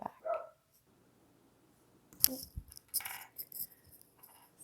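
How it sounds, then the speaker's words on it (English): A pet dog barks indoors at home: a short burst at the start, then a second run of sharp, fairly close barks and yips after a pause, with quiet in between. "Hold on, my dog's barking."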